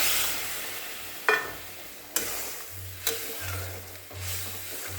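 Curry gravy with lentil fritters simmers after hot water is poured in, making a soft, low bubbling hiss with a few sharp clicks at irregular intervals.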